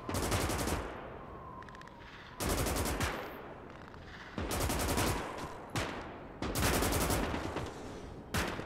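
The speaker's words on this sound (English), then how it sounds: "they're shooting at me here" Gunfire in the multiplayer war game Gates of Hell: loud bursts of rapid shots, several sustained volleys broken by short gaps, close and harsh, with no talking.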